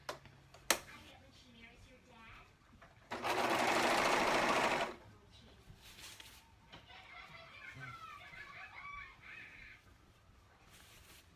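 A sewing machine stitches the side seams of a dress costume, running in one loud, steady burst of about two seconds amid quieter clicks, handling noises and soft background voices.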